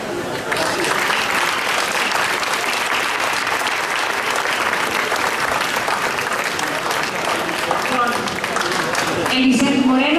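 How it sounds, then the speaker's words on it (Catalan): Sustained, dense applause from a crowd at an outdoor fig fair ceremony in Alguaire, steady and loud throughout, with a few voices and faint tones rising near the end. "Un aplaudiment per ell."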